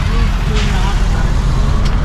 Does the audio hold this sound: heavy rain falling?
no